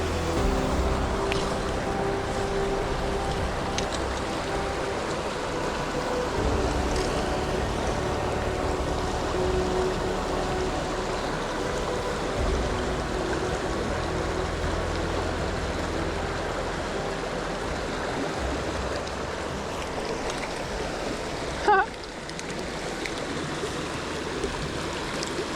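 A small mountain creek in California golden trout country flows in a continuous, steady rush, with no voices, and a brief knock stands out late on.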